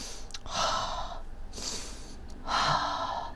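A person inhaling and exhaling audibly in a few slow, close breaths to calm down, quiet and breathy, with no talk over it.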